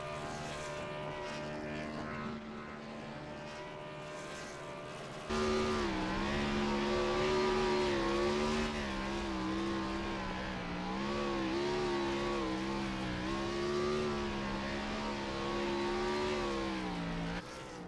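A race car in a racing video game does a burnout after the race, its engine holding a loud, steady wavering drone that jumps up sharply partway through and stays revving hard to the end, with no talk over it.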